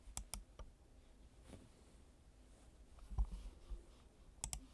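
A few sharp, quiet mouse clicks sound at the start and again near the end while updating a web page, with soft isolated taps between and no talking.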